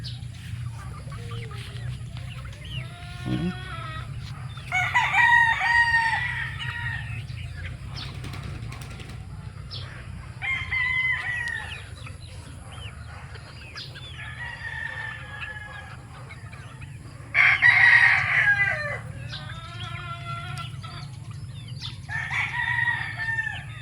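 Young gamecock stags crow repeatedly at a backyard breeding farm, several overlapping cock-a-doodle-doo calls with scattered clucks and some wing flapping, fairly near, over a steady low hum.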